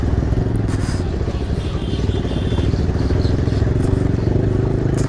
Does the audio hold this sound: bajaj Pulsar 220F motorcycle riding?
yes